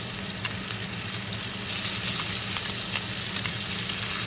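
Steak sizzles in a hot pan as it is basted with butter: a dense, continuous crackling hiss with small spatters and a faint low hum beneath, close and steady with no voices.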